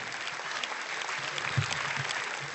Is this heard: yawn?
no